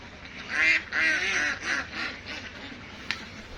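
Ducks on a two-storey duck farm with a pond, about a thousand birds kept, giving several close, loud nasal quacks in a quick run that then trail off into softer calls.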